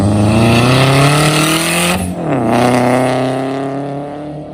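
A clean 2013 car sliding around a race track, its engine loud and near and revving hard, then dropping off abruptly before climbing back as the car passes and fades slightly.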